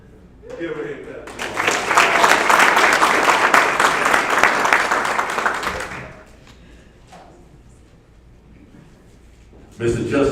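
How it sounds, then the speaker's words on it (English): Graduation audience breaks into loud, dense clapping for about four seconds, then it dies away to scattered claps and voices, with talk resuming near the end. "Give him a hand clap."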